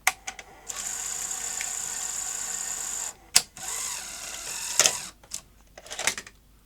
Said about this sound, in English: Quite vicious the way it ejects the tape at the end